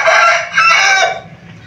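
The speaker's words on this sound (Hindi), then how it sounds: "ये देखें ये हमारा मुर्गा" A rooster crows loudly and close by, one drawn-out cock-a-doodle-doo that trails off at the end.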